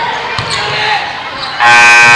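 A loud, sustained electronic buzzer sounds at the end of a period in a high school basketball game, cutting in over crowd noise and commentary and holding steady to the end.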